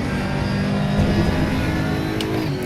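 A loud, steady engine drone from an Aquila CR1 race car in Raceroom Racing Experience at Hockenheimring, holding a continuous high-revving tone without break, with no talk over it.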